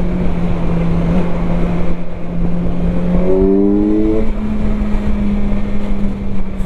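A Kawasaki Z1100 motorcycle engine runs steadily at high revs, around 5500 rpm, with a continuous loud drone and wind rush, and a brief rising harmonic whine midway as it holds speed.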